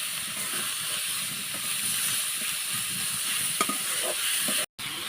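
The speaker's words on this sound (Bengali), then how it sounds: "মশলা আর মাংসটা আমি ভালোভাবে এখন মিক্স করব।" Spices and meat are stirred together in a hot pan, giving a continuous close sizzle and frying hiss with soft scraping stir strokes throughout, ending in a brief cutoff.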